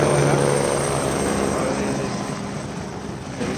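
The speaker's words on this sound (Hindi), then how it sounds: "मेजरली 2 or 3 minutes के अंदर इधर हेलीकॉप्टर आ रहा है और 1-2 minutes के अंदर ही उड़ जा रहे हैं" Helicopter at the Kedarnath helipad in October, a steady rotor and engine drone heard fairly close, loud at first and gradually easing off.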